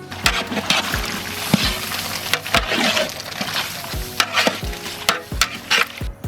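Chicken stirred into a biryani pot after turmeric and homemade ginger-garlic paste, Tadipatri-style biryani from Rayalaseema: steady sizzling frying with repeated sharp scraping stir strokes against the pot, close and loud, no talk.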